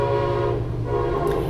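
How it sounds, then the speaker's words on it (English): A train passes by with a loud, steady low rumble and a long horn tone. It is near and continuous, with no voices over it. "The train is going by"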